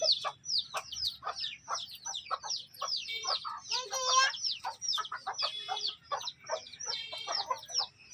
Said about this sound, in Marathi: मस्त आपले कोंबडे कोंबड्यांनी पिल्लं पण काढलेले आहे आपल्या